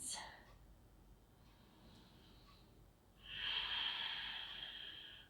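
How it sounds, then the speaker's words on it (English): Steady breathing during an advanced vinyasa yoga flow: soft, quiet inhales followed by a louder, drawn-out breathy exhale, close to the microphone, with no talking. "Breathing the whole time."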